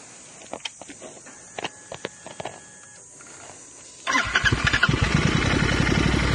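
Motorcycle engine cranking and catching at a riverside, first a few scattered clicks and bumps, then a loud steady idle rumble that fills the last two seconds close by.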